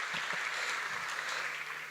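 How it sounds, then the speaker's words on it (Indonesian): Brief, fairly faint applause from a seated audience at a crypto talk, an even patter of many hands clapping with a few closer claps standing out. "Kasih tepuk tangan dulu."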